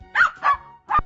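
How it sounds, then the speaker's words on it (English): A dog barks three times, loud and close, in a quick uneven rhythm with a short pause before the last bark, heard alone in a children's animal-sounds song. "Dog."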